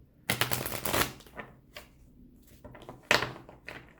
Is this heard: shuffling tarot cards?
yes